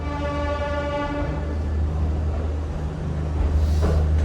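A DEMU train runs close by, its horn sounding as a steady multi-tone blast that fades after about a second, leaving a loud low engine rumble and wheel noise that swell toward the end.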